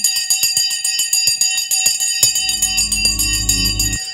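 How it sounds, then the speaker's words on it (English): A market opening bell rings in rapid repeated strikes, loud and close, with a low sustained tone joining partway through before cutting off. "We are now ringing the bell."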